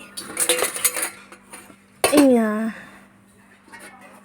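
Home kitchen dishes and lids clatter as pots of cooked food, including a cabbage and pea curry, are covered, with bright metallic clinks early, one sharp clang ringing out midway, and someone talking over parts of it.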